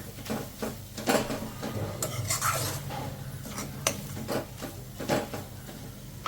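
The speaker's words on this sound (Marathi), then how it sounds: "असं व्यवस्थित असं आपण मिक्स करून घेऊया." Chicken masala mixture is stirred in a pan with a utensil, producing steady scraping and soft clanks against the metal at close range, irregular strokes over a low kitchen hum, no speech.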